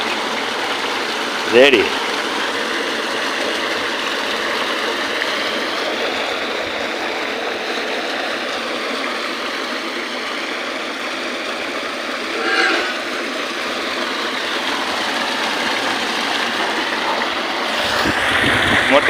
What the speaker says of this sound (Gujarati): મોટર ચાલુ કરીને હવેડો ભરી દો